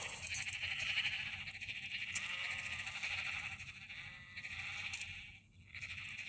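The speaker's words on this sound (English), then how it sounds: "look at the number of the sheep that we are raising" Sheep bleat on a sheep farm, several overlapping calls from a flock, fairly close and continuous, over a low rumbling outdoor background.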